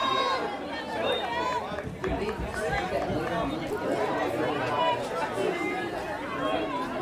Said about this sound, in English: Nice crowd on hand here.